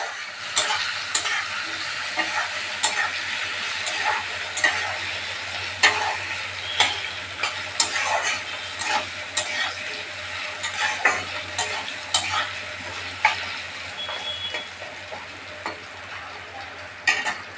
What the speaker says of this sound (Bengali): হলুদ গুঁড়ো দিয়ে দিলাম। দিয়ে আলুটাকে একটু ভালো করে ভেজে